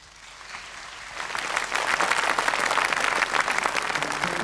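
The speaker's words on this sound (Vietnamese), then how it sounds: "tròn tràng pháo tay" A live audience at a Vietnamese comedy stage show breaks into applause, starting faint and swelling within a second into loud, dense, sustained clapping that continues to the end.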